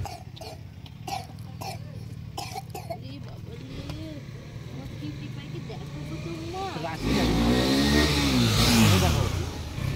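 Motorcycle engine revving loudly during roadside stunt riding on a hill outing, rising into a sustained roar over the last few seconds after coughing and chatter from people nearby.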